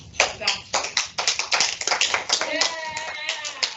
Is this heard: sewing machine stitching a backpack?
no